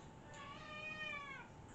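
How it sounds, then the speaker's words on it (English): A house cat meows once as it lets itself in through a door, a single drawn-out, slightly rising call, fairly close but quiet against a hushed indoor room. "No, that was Casper the cat letting himself in."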